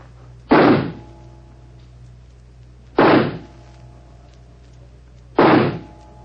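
Three pistol shots in a shooting match, evenly spaced about two and a half seconds apart, each a sharp loud crack with a short decay over a quiet background.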